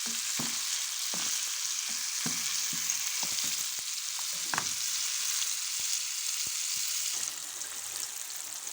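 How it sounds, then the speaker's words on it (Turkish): Curd cheese (lor) being stirred as it melts in a pan for a breakfast cheese dish, with a steady sizzle and scattered scraping taps from the spoon, no talking. "Güzel yine sakız gibi olana kadar, eriyene kadar karıştırıyoruz arkadaşlar"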